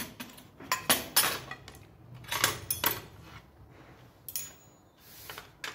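A spoon scrapes and clinks against a plate or bowl while someone eats chicken and garlic, with irregular close, sharp metallic taps and clatters spread through the clip and no talking.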